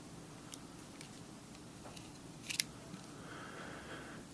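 Scissors on a Leatherman Fuse multitool snip a few times, giving faint, close clicks and short metallic ticks, with a sharper double snip near the middle, over a quiet low room hum.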